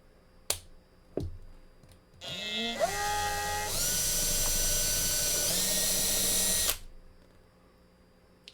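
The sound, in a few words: drilling small posts with a bit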